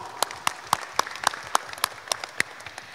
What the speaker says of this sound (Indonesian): tepuk tangan untuk kita semua dulu dong.